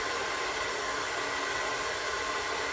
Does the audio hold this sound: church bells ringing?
no